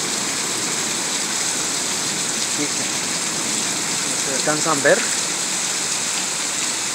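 Heavy rain pours in a steady, loud broadband rush during a nighttime thunderstorm with strong wind, lightning and thunder in rural Oaxaca; a person speaks briefly over it near the end.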